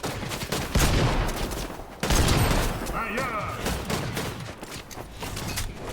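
Shotgun blasts in Fortnite Zero Build, loud, booming game gunfire with several heavy shots in quick succession, close and dense, while a voice talks over the shooting.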